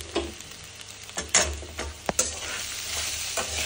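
Poha is mixed with onions in a pan, giving irregular scraping and knocking spatula strokes over a soft frying sizzle, close and fairly loud.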